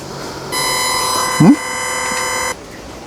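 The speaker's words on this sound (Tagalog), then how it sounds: "Pagdating ng 55, dun siya nag-alarm." A vehicle's speed warning alarm, triggered at 55, sounds as a steady buzzing tone for about two seconds over road noise, with a brief voice breaking in during the tone.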